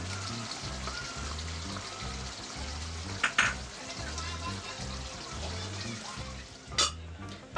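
Okra for bhindi masala fries in a pan on a gas stove with a steady crackling sizzle. It runs under a pulsing, bass-heavy music bed, and two sharp clatters cut through near the middle and the end.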